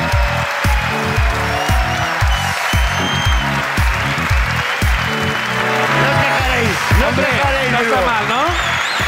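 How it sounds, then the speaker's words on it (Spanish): Live comedy show audience in Bilbao applauding the guest comedian Miguel Maldonado, loud sustained clapping from the crowd with music and talk mixed in. "Un aplauso para el invitado que es Miguel Maldonado."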